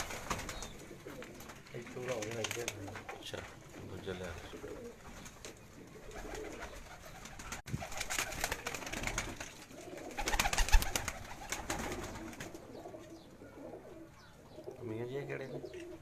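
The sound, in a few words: Badshah breed pigeons cooing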